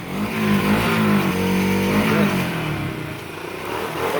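A Kawasaki Ninja 250SL motorcycle with its stock exhaust pipe revs loudly and steadily close by, the engine note rising and falling in sustained blips before easing off near the end, with no talk over it.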